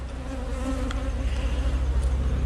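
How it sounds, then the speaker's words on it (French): Honeybees buzz steadily at an opened hive during a spring inspection, a dense continuous drone close by with no talk over it. "Donc, on est sur une abeille, une ruche là."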